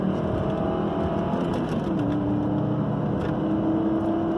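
A Volvo V70's 170 hp five-cylinder engine pulls steadily under acceleration, a continuous droning hum heard from inside the car, its pitch climbing gradually with no talk over it.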